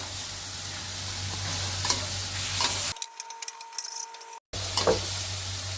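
Wood ear mushrooms stir-fried in a pan, loud sizzling with scraping stirs of a utensil, briefly cut to a quieter clattering section with a near-silent gap before the sizzle returns.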